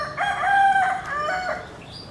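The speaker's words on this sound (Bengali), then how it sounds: "সো এ হচ্ছে ময়ূর" A peacock beside its cage near a pond at Batu Caves in Kuala Lumpur gives a loud, nasal, wailing call in a couple of drawn-out bursts, close by, with faint outdoor ambience around it.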